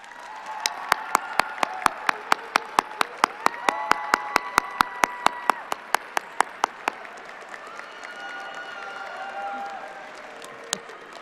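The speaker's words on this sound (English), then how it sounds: "let's give them a round of applause" Graduation audience applauding at the 2023 Irvin graduation, a steady wash of many hands clapping with sharp individual claps standing out in a regular rhythm, moderately loud and sustained, fading slightly toward the end.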